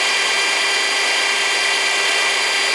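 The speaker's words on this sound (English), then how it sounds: "So we just drilled the hole for our bracket." A power drill bores steadily through a metal bracket for a Miata front splitter, a close, loud whine held at constant pitch for about three seconds before it suddenly stops.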